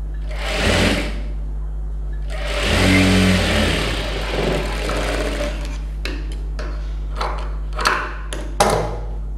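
A domestic sewing machine stitching a folded quarter-inch hem on a designer blouse, with short whirring bursts of stitching separated by pauses, handling noises and faint clicks, close and clear.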